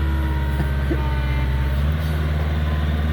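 The direct-injection diesel of a Komatsu PC60-5 excavator idles loudly and close by, a steady, deep, throbbing rumble that holds unchanged with no speech over it.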